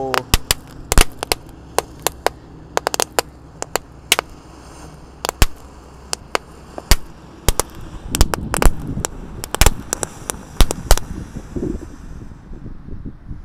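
A colourful ball fountain firework burning in a hole in the ground, giving off a continuous hiss broken by sharp crackling pops that grow denser and louder toward the end.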